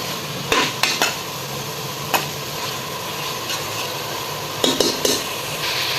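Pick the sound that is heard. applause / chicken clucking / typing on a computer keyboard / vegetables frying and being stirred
vegetables frying and being stirred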